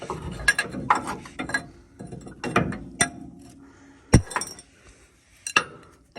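Metal wrench clinking and clanking against the strut rod of a 1968 Lincoln Continental during bushing replacement, several sharp scattered clinks and rattles close by with pauses between them, no talking.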